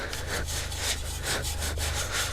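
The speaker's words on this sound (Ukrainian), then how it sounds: "Отак уже дебеленько його прочистити, не шкодуючи того юршика." A bottle brush scrubs steadily inside a Drevos smoker's smoke generator, producing rhythmic back-and-forth rasping strokes, close and continuous, with a low hum underneath.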